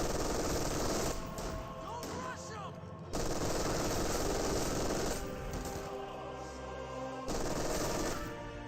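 Bursts of MG42 machine gun fire in Company of Heroes 2 rattle loudly in a dense battlefield mix, sustained volleys broken by brief pauses, with other gunfire and explosions around.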